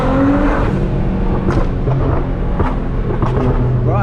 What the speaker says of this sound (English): Keep tapping the gas, keep tapping it.